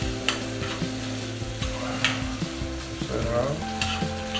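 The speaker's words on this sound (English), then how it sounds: "Saute for a minute." Salmon and mixed vegetables sauteing in a hot frying pan, a steady sizzle with scraping stirs and clinks throughout, close up; a voice speaks briefly.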